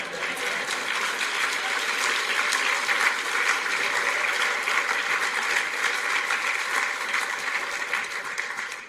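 Steady applause from an audience at a legal-profession talk, a dense, even wash of clapping holding at moderate loudness throughout with no voices over it.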